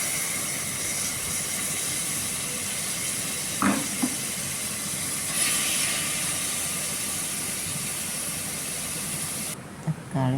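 Steady loud hiss of tomatoes frying in a hot pan with crushed ginger, garlic and fennel for a potato beef curry, a continuous sizzle with a couple of brief clinks.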